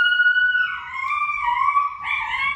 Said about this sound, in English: You just got to witness my crazy cockapoo, how he cries when he is away from something he wants.